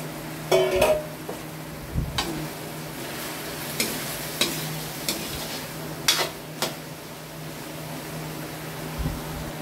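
Carrots and potatoes go into a pan of pork menudo and get stirred. Spoon scrapes and clanks against the pot come in a loose rhythm over a soft steady sizzle, close and clear, with no talking.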